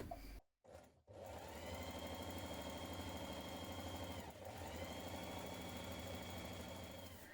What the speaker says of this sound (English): Stay stitch the neck edges of the front pieces and stay stitch around the front sleeve at the top.